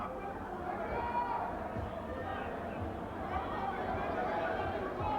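A boxing crowd at the Orient Theatre murmurs and stirs faintly throughout a South African flyweight title bout, a low continuous babble in the distance.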